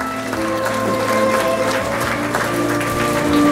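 Applause for a graduating student at a primary school promotion ceremony, a moderate clapping crowd under a steady background of music or tonal hum, continuous throughout.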